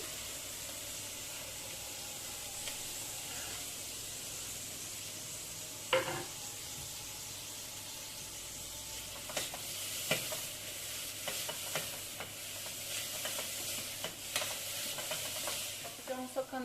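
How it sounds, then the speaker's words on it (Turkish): Steady sizzling of grated carrots frying in a pot for carrot soup, with occasional clinks and scrapes of a utensil stirring. No voices. "Biraz da havuçları kavuracağım"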